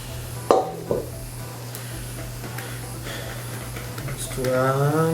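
Chocolate cake batter being stirred in a bowl, with a couple of sharp knocks of the utensil early on and soft scraping beneath steady background hum, ending as a voice starts talking.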